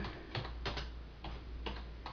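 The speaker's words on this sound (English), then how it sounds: "Typing with one finger." A computer keyboard is tapped slowly with one finger, producing faint, sparse, irregular clicks, about six or seven keystrokes with uneven gaps, quiet and close, with no talking.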